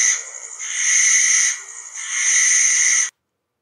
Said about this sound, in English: A great horned owl hooted dismally from the edge of the forest